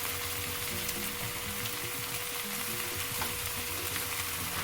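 Indomie seafood instant noodles with a little soy sauce are mixed in a pan, giving a soft, continuous low sizzle with faint stirring underneath.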